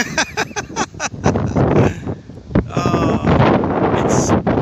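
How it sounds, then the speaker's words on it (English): Gusty wind buffets the microphone on a beach, a loud rumbling roar rising and falling throughout, with brief bursts of speech-like sound mixed in. "You can probably hear the wind"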